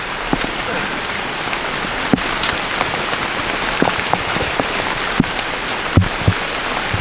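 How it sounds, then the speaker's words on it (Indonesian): Rain falls steadily on an A-frame survival shelter, a dense, even hiss of drops on the roof. Louder individual drips and taps break through at irregular moments, and no one speaks. "meskipun hujan tidak tembus ke dalam"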